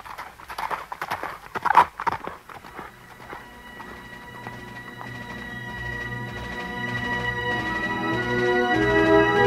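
Horses setting off in a Winnetou audio story, their hooves clip-clopping close and clear at a walking rhythm, while a steady tonal backdrop swells underneath.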